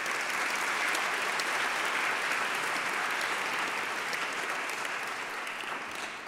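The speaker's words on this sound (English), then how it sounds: "Another round of applause." Steady, dense applause from a large audience at a synagogue gathering, fairly distant and even throughout, with no voices over it.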